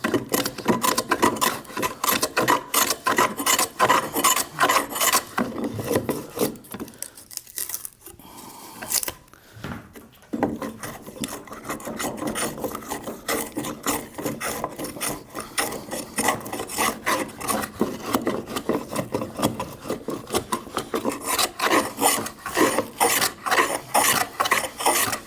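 Long strokes of a woodworking hand plane across a board held against a bench dog in a vise, taking thick heavy shavings; a steady rasping shave repeats through most of the stretch, with a brief pause midway.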